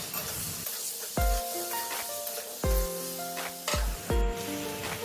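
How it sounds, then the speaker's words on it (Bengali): Vegetables with salt and turmeric stirred in a pan for jhinga sukto, with a continuous sizzle and four loud metallic clanks of the spoon against the pan that ring briefly, no talking. "আবারও সব কিছু ভালোভাবে দু মিনিট নেড়ে চেড়ে নিচ্ছি"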